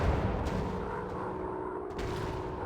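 Rockets fired from a warplane in the WW2 dogfight game Warplanes: WW2 Dogfight, a dense, steady roar of launches and engine noise with a few brief bursts, loud and continuous, without speech.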